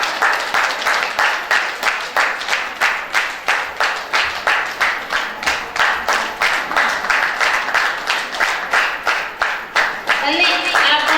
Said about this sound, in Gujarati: તાળી પાડો સ્વાગત કરીએ તેમનું.